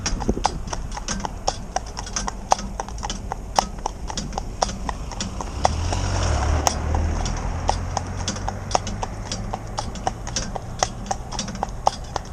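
An older cob mare's hooves clip-clop steadily on a hard road at a relaxed walking pace, close by, with a low engine rumble swelling briefly midway.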